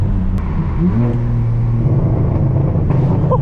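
A straight-piped BMW M4 F82 pulls hard along mountain roads, its loud exhaust rising in pitch through the revs and then settling into a throbbing rumble, close and without talk.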